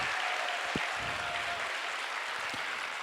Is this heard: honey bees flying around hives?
no